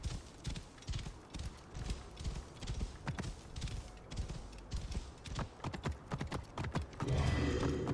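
Horse galloping in Assassin's Creed Origins, a continuous fast clip-clop of hooves running throughout, fairly close, ending in a louder rumbling burst at the end.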